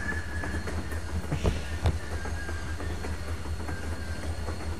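A train rolls along in The Walking Dead video game, a steady low rumble with rhythmic clickety-clack thumps and a couple of sharper metallic knocks, fairly quiet and with no voices.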